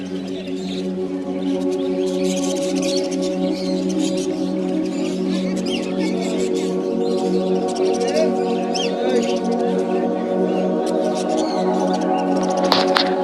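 Many colourful caged birds chirp and tweet at the Mirpur bird market. Scattered bright calls overlap continuously over a steady low hum of market background noise.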